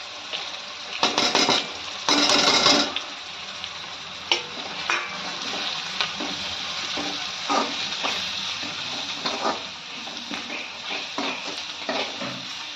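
Spices go into a hot frying pan for dry whole masoor lentils, bringing a loud sizzling hiss, followed by ongoing frying crackle and intermittent scraping stirs of a spoon against the pan.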